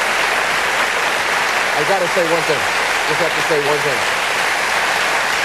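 A studio audience at a Letterman late-night talk show applauds in a steady, loud, unbroken wash while someone speaks over it.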